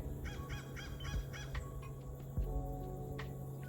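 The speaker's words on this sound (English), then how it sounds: "Clearly the bird want to be in the video." A bird caws repeatedly nearby in a rapid series of harsh calls, then a few scattered calls follow over a steady low background hum.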